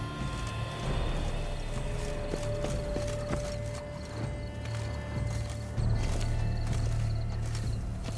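Steady clip-clop of horse hooves walking on a hard surface in The Witcher 3 (VR), with a low continuous drone and a few game sound effects in the background.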